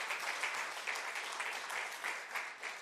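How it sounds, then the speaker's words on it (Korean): A church congregation at Sunday worship breaking into applause, a dense, sustained wash of many hands clapping from a large crowd, steady and even with no voices on top. "박수 칠 거면 한번 합시다."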